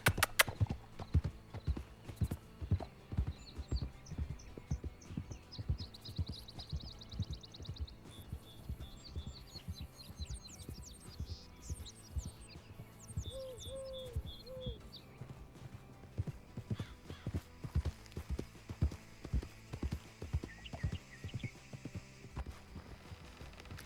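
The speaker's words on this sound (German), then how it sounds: "Das ist crazy, der Pferd." A horse galloping in Red Dead Redemption 2, with steady rapid hoof clops throughout and a few loud whinnies and neighs in the middle. Nearby and prominent, with no talking.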